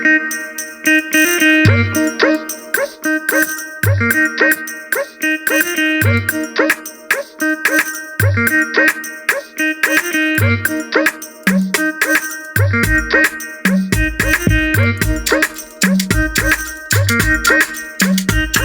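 Synth line shaped with a rising-and-falling filter and a touch of reverb for width, layered with a punchy drum pattern of kicks and hits in a loud, steady Afrobeat-style studio production, with no voices.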